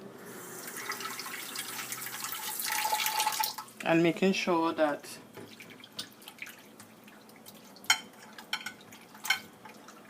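Water is poured and trickles over raw chicken being washed in a kitchen, a splashing stream at first followed by scattered drips, with a person talking over it.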